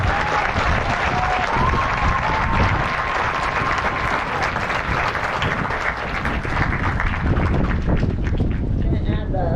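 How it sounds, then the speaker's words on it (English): Big round of applause for graduates at a 2022 graduation ceremony, loud sustained clapping and cheering from a crowd, with wind buffeting the microphone and voices mixed in. "one more big round of applause for these amazing guys"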